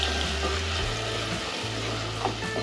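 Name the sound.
onion paste frying in oil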